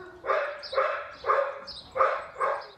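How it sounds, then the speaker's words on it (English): A Staffordshire bull terrier puppy barks repeatedly in a steady series of five sharp, fairly loud yaps at a close distance, with no voices present. "Normal dogs bark, but this is not normal."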